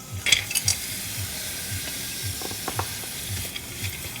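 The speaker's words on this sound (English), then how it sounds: "I'm going to add in my spring onions and also my mixed veggie" Spring onions and mixed vegetables sizzle in a hot pan for vegan fried rice, with a steady fry hiss, a low rhythmic scraping pulse and a few sharper clicks from stirring, close and without talk.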